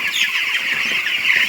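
Flock of young chickens in a poultry farm shed clucking and cheeping steadily throughout, a dense continuous chorus close by with no talking.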